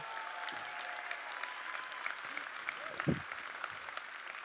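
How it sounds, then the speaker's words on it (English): Audience applause for the speakers at a conference, moderately distant and fairly quiet, a steady patter of clapping across the room with a brief louder bump near the end. "Give them a round of applause"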